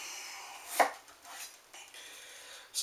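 A knife cuts through potatoes for a potato and leek soup, with a sharp chop on a board followed by softer sliding and tapping sounds at close range.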